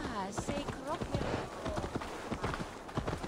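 Horse hooves clip-clopping at a steady, quick pace while riding in Assassin's Creed Valhalla, the rhythmic hoofbeats running continuously beneath someone talking.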